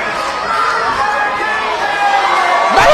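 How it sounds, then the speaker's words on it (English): A packed crowd at a 2006 TNA wrestling campus show roars in a steady, dense wash of cheering and chatter that swells slightly near the end. "And this crowd is going ballistic."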